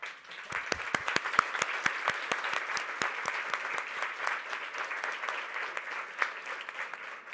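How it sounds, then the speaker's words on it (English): Audience at a League of Women Voters awards breakfast in New York applauding, a dense round of clapping from many hands in a room, steady and moderately loud throughout with distinct individual claps. "we'll give you a round of applause"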